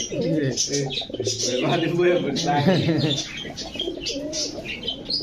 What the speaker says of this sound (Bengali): এটা চুইঠাল খাকি এক হাত সাইজের অনেক বড়